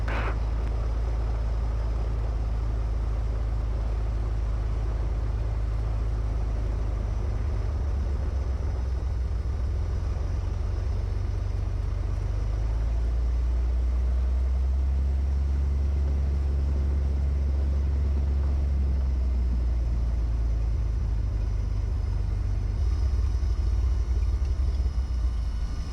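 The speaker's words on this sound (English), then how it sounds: "We're taxiing over to the fuel tanks." Stinson light airplane taxiing across the ramp at Sun River airport toward the fuel tanks, its piston engine a steady, loud, close drone with deep rumbling tones that shift slightly in pitch.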